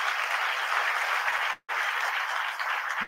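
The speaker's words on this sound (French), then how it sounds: "merci d'applaudir très, très fort" An audience at a CEO business talk claps steadily and loudly, breaking off for a brief silent gap in the middle before the applause resumes and stops abruptly.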